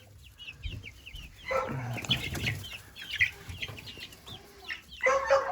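Young chicks in a simple indoor brooder, old enough to hop and flutter, cheep and cluck in overlapping bursts at close range, with busy rustling in between and no talk.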